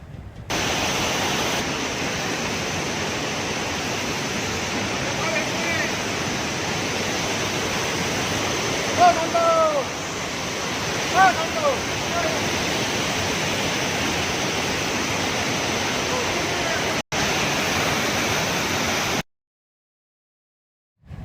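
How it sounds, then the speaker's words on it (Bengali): Main waterfall at Pelling roaring in a broad, steady rush of falling water, loud and unbroken for most of the stretch, with faint birdlike chirps briefly audible midway and no voices. "এখানে ঝর্ণার জলের এত আওয়াজ,"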